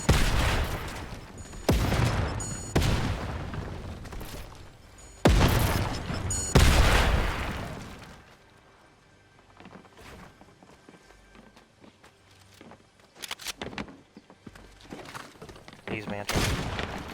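Video game gunfire shreds player-built structures in heavy bursts: loud booming volleys and rapid shots come in clusters over the first half, then thin out to scattered quieter bangs and footstep-like thuds, with a voice talking over parts.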